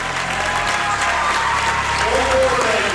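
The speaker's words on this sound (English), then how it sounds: "Let's give these kids a big round of applause." A crowd in a high school gymnasium at a boys basketball game gives a loud round of applause for local children, with cheering, voices and a low hum mixed into the steady clapping.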